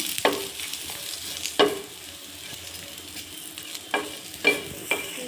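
Wheat huggi frying in ghee in a pan over a low flame, with a soft steady sizzle broken by a few sharp scrapes and knocks of a stirring spoon, close and alone with no talk.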